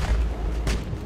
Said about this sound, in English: Oh, there we go. 150mm main gun.